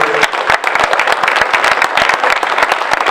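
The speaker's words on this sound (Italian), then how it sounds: "vorrei ringraziare Tiziana con un applauso" An audience at a public talk on war and German occupation in western Liguria gives a loud, dense round of clapping that holds steady throughout, with no voices over it.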